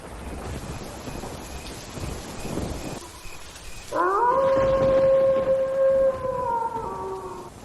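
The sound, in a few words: thunder and heavy rain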